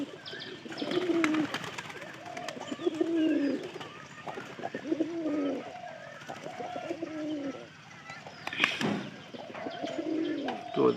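Pigeons perched on a roof give repeated deep, rolling coos in overlapping phrases, fairly close and clear, with brief higher calls and a sharp flutter-like burst partway through.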